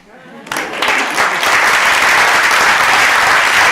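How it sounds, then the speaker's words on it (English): Audience applause at a social enterprise summit in Asia, a burst of clapping that starts abruptly and swells into sustained, dense applause filling the hall without pause. "Now you can clap."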